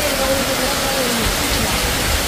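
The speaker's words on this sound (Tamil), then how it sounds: "காற்றுடன் மழை. அது மட்டும் இல்லை இடி முழங்குது." Heavy rain pours steadily with gusting wind during a storm at a house, a dense, loud wash of sound, with a faint voice briefly audible beneath it.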